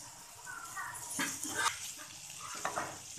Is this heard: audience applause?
no